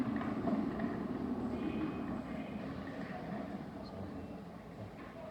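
A London Overground train rumbling past at close range, a steady broadband roar of wheels and carriages that fades slightly after the first couple of seconds, with faint voices mixed in.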